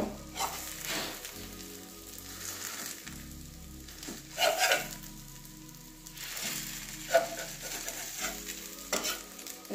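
Egg omelette pieces frying in hot oil in a pan, a steady soft sizzle with intermittent louder scraping and stirring bursts of the spatula, close up with no talking.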